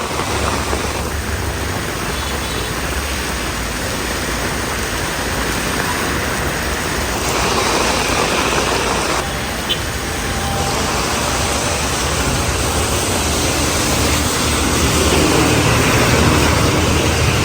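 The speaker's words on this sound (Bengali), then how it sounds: "গরমের প্রশান্তি ভালোই বৃষ্টি হচ্ছে একবারে ধুমছে বৃষ্টি" Heavy downpour on a Dhaka city street, a dense continuous roar of rain with traffic rumbling underneath, loud and steady throughout without talk.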